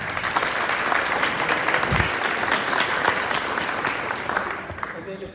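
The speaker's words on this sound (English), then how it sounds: "let's give Ms. Ellie Cox a round of applause" A school board meeting audience gives a round of applause for a student award winner, with steady sustained clapping from many people that carries on and then thins out over the final second.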